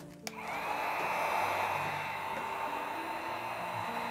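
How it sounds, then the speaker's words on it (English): A heat gun warming poured acrylic paint on a canvas, one steady blowing whoosh that starts after a small click and runs on evenly and fairly quietly. "Take the heat gun."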